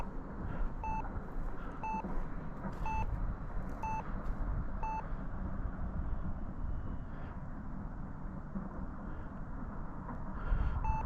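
A cockpit timer on a T-7A training jet beeps in a regular series of short, evenly spaced tones about once a second, repeating five times and then again near the end over a continuous engine and airflow rumble.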